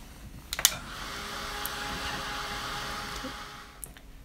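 A small hair dryer whooshes steadily for about three seconds while drying two painted pages, switching on after a couple of sharp clicks and then cutting off, heard close and moderately loud.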